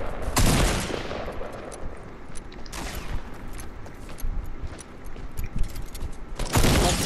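Rapid bursts of gunfire crackle in Fortnite, with several loud volleys and steady shooting in between, close and intense.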